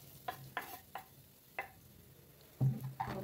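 Chopped onion dropped into a hot pan for frying, a handful of short scraping stirs and knocks followed by a burst of sizzling near the end, close and clear with no talking.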